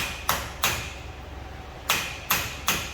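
Metal hammer blows ring out against a car's rear axle during a rear axle seal replacement, five sharp, close strikes in two quick pairs and a trio with a short pause between.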